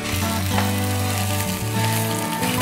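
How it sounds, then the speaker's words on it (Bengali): Chopped garlic sizzles in hot oil with cumin seeds and dried red chillies, a steady, close frying hiss that runs unbroken with no talking. "রসুন কুচিটা দিয়ে খুব ভালো করে ভেজে নিতে হবে।"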